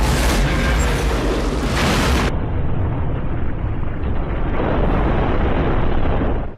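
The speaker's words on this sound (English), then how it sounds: "Michael Caine and the Doctor from Scrubs plan to kill Forrest Seagal in an explosion" A huge, roaring movie explosion from the film On Deadly Ground fills about six seconds with a dense, loud blast and rumble that stays heavy throughout before cutting off abruptly.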